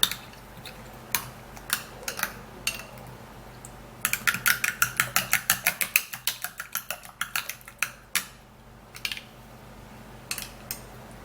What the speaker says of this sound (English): So we're just gonna be turning all of them inside, and then we'll give it a good stir.